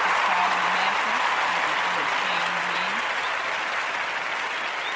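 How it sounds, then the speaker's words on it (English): An audience at a public meeting applauds steadily, a dense wash of clapping from a crowd that fades slightly toward the end, with a voice briefly heard beneath it. "let's give her a round of applause, Miss Tashia."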